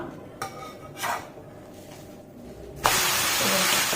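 A vegetable uttapam is turned over on a hot pan, giving a couple of soft scraping knocks followed by a loud steady sizzle and hiss as the batter hits the hot surface.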